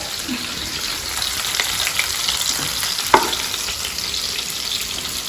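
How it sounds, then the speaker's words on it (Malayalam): Chicken pieces frying in hot oil in a pan give a steady, close sizzle throughout, broken by a few faint clinks and one sharp tap a little past the midpoint. "നമ്മൾ മീനൊക്കെ പൊരിക്കുന്ന പോലെ തിരിച്ചിട്ട് പൊരിക്കാൻ പോകും"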